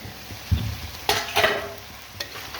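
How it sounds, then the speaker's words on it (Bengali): Kolai bori, small lentil dumplings, fry in a pan, giving a few short sizzling bursts and stirring scrapes between quieter gaps, close by. "এবার কলাইয়ের বড়িকে একটু ভাজবো"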